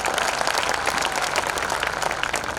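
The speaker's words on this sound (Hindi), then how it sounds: "एक बार रमेश मुस्कान के लिए और तालियां बजा दीजिए।" Sustained applause from a large festival audience at the Datia Mahotsav 2021, dense even clapping that holds at a steady, fairly loud level throughout.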